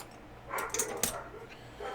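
A few short barks from dogs sound in quick succession at a distance, faint and brief against a quiet room background.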